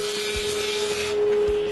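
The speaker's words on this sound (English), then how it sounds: "Then I rough cut to length the 2x4 with a handsaw." A handsaw rough-cuts a recycled 2x4 with a few short, scratchy rasping strokes, close up. A faint steady hum sits in the background.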